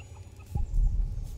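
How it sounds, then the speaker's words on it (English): A fat chicken clucks by an open cooking fire in the Pillars of the Earth video game, giving one brief, fairly close cluck over a low background rumble. "Fat little chicken so close to a fire."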